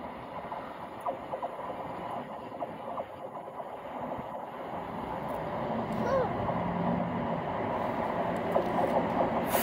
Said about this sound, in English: Trains, that's right.